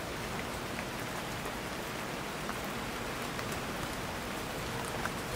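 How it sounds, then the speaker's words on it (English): Heavy pouring rain on an autumn day falls as a steady, dense hiss with no thunder, and a plane passes faintly overhead in the background. "Pouring rain."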